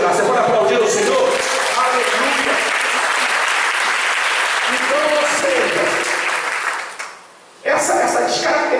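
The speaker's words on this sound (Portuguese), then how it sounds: "Você pode aplaudir o Senhor?" A church congregation applauds during a sermon with loud, sustained clapping mixed with crowd voices. It briefly drops away near the end, then bursts back in.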